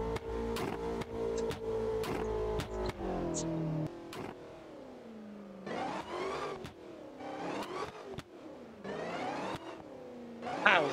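A 2023 BMW X6M in BeamNG.Drive revs and accelerates hard, its loud engine note climbing and dropping through repeated surges, with brief shift breaks between the runs.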